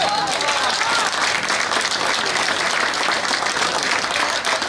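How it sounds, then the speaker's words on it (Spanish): A dinner crowd at a 2019 senior tournament awards night bursts into loud, sustained applause, thick overlapping claps filling the room with a murmur of voices beneath. "Aplausos."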